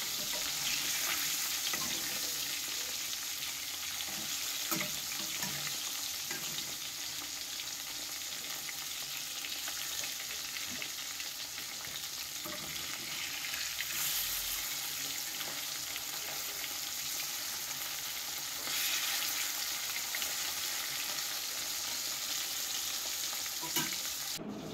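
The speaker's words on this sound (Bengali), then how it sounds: "আর এদিকে কড়াইটাও বসিয়ে দিয়েছি সর্ষের তেল দিয়ে, আর এখন দেখো মাছগুলোকে ভেজে নিচ্ছি।" Koi fish frying in mustard oil in a wok, a steady broad sizzle that runs unbroken for the whole stretch, with occasional louder spits and crackles rising from the hot pan and no voices.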